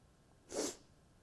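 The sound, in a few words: person sniffling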